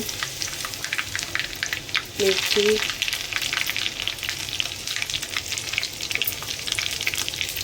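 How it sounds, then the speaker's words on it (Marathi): Mustard seeds and chillies tempered in hot oil for dal khichdi, a continuous crackling sizzle with popping seeds, close and steady, with a brief voice partway through. "मस्त तडका देते हम्म, राई टाकली"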